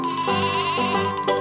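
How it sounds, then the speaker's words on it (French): A sheep on a farm bleats in one loud, sustained, wavering cry lasting over a second, close and clear with no talk. "un mouton,"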